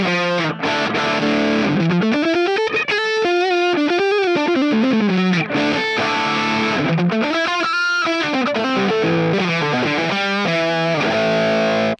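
Distorted electric guitar played through the Brit 800 amp model of a NUX MG30 multi-effects unit, heavy saturated chords and bent sustained notes ringing out alone, loud and continuous for about twelve seconds.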